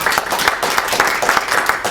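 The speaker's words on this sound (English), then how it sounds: "can everybody give a round of applause to Kai over here on my left?" Audience at a film festival applauding for Kai, a steady dense wash of many hands clapping throughout, fairly close and continuous with no break.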